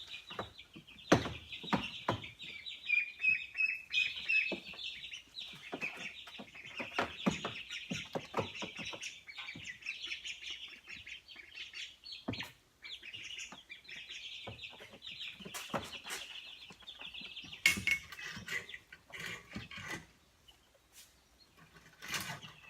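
Baby chicks in a bin chirp constantly in high, overlapping peeps, with scattered clunks and rustles of bedding and handling throughout, fairly near, and no voices.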